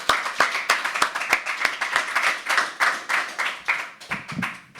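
An audience at a live poetry open mic claps steadily, a dense run of close hand claps that slowly thins and loosens toward the end.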